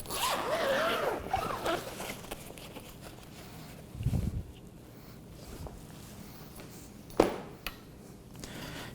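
Zipper on the carrying bag of a Bogen tripod pulled open in a couple of quick, close zips, with soft handling rustle and small knocks in between.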